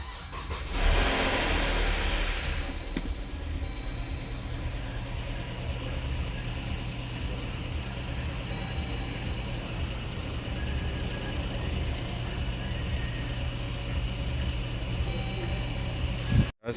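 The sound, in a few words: 2014 Dodge Durango 3.6L engine starting and idling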